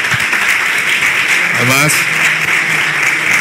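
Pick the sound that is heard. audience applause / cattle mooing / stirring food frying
audience applause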